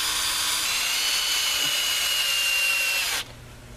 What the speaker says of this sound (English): I take a lag screw. This is a 2-inch lag screw, and I'll put it below the hole